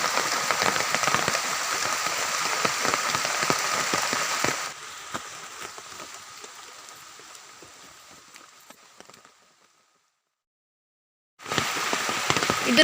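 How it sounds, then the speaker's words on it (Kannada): Heavy monsoon rain drums and crackles densely on nearby surfaces, then thins and fades to near silence before the loud downpour returns abruptly. "ಜೋರು ಮಳೆ ಬರ್ತಾ ಉಂಟು."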